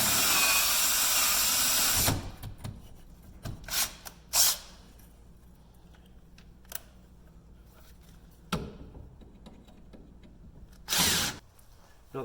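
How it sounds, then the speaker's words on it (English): Aluminum rivets being drilled out with a 5/32 bit on a 2019 Polaris Ranger 1000 XP: a long steady drill whine at the start, then several short bursts of drilling and clatter separated by quiet gaps, close and fairly loud. "I'm just going to drill through."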